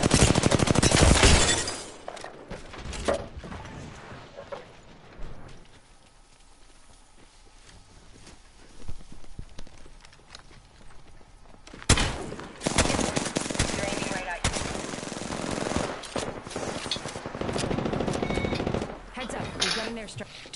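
Apex Legends gunfire, with close, loud bursts of rapid shots at the start and again in the second half, separated by a quieter stretch, amid in-game clatter and footsteps.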